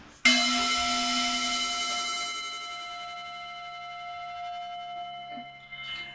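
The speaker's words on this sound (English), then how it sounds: "when you hear the bell, we practice listening to the bell deeply." A single clear mindfulness bell strike rings out and sustains, its bright tone slowly fading over several seconds in a quiet room.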